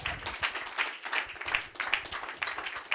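A congregation at a church service applauds, a dense, steady wash of many hands clapping that fills the room, with a subtle rhythmic pulse running through it.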